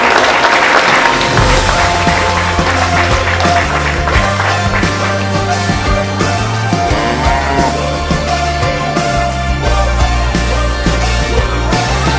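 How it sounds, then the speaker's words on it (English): Sustained loud applause from a crowd honouring livestock exhibitors at the Minnesota State Fair, steady clapping with scattered cheers throughout. "Let's give these exhibitors one more round of applause"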